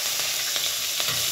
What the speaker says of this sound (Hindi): अब मैं कड़ी पत्ता डाल दूंगी